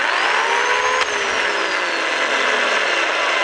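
An electric chainsaw runs its chain with a steady, loud whine and a high harmonic that drifts slowly downward, held close and continuous throughout, with no voices.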